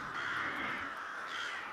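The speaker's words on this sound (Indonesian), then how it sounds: "Puluhan burung gagak berterbangan datang untuk mematuk mata mereka." Crows caw harshly and continuously through a short dramatic storytelling sound effect, loud and close against a steady background.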